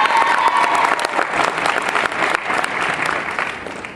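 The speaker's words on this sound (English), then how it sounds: "Let's also give them an extra round of applause" Audience applause at a cosplay competition at a convention, a dense burst of clapping from a large crowd, loud and sustained throughout.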